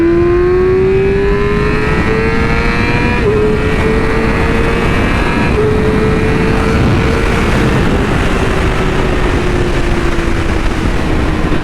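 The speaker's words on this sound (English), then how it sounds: "I'm gonna give him a dope flyby." A Yamaha R6 sport bike engine drones loud and close through a sustained acceleration, its pitch climbing in steps as gears shift, over heavy wind rumble.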